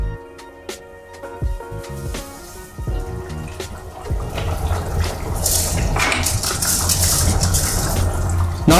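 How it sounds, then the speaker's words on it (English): Water pours steadily into a pressure cooker while vegetable pulao is being made, a close, continuous splashing fill that grows fuller and louder as the pot takes on more liquid. "So now here goes 3rd cup of water."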